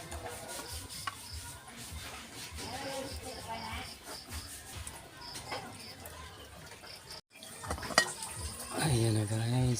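Sinigang broth with shrimp and okra boiling in a pot, a steady bubbling simmer with clinks of a utensil against the pot, and a voice speaking briefly near the end.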